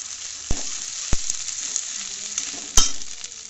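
Sliced tomato frying with ginger and garlic in a pan, a steady close sizzle broken by three sharp clacks of a utensil against the pan, with no voices.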